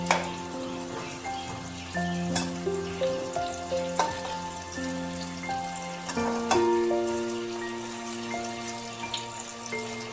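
Cabbage kofta balls sizzle steadily in hot oil for a home-cooked Bengali kofta curry. The crackle stays at a moderate level throughout and sits under a prominent bed of tonal background music.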